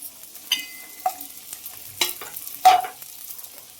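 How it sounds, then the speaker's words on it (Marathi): Edible gum (dink) frying in hot ghee while being stirred in a pan for traditional fenugreek laddoos, heard as soft sizzling with a few scraping stirs spaced about half a second apart, close up with no talking. "आपल्याला आता छान आहे ते तुपात भाजून घ्यायचंय आपल्याला असं डिंक भाजून घ्याय तळून घ्यायचंय"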